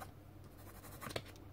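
A pen scratches steadily across a paper box template while it is being colored in, a soft close-up scribbling with a slightly stronger stroke near the end.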